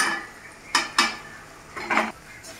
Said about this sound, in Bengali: দেখুন জল ছাড়ছে টমেটোটা দিয়ে, আর ভাজাও হচ্ছে।